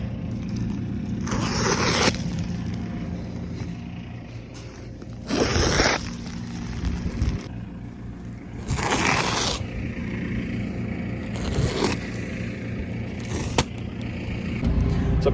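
A knife slits open a plastic-wrapped silage bale in a barn, with a few separate sharp rasping, tearing strokes that cut through a steady low rumble of background noise.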